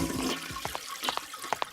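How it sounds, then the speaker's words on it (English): A cartoon toilet flushes in a short burst of watery gurgles and splashy swirls, clear and close with no talking over it. "he could only get the toilet to flush"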